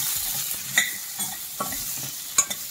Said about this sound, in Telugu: ఇలా ఒక 1/2 స్పూన్ కారం, ఒక 1/2 స్పూన్ ఉప్పు వీటికి పట్టేలాగా వేయించుకోవాలి.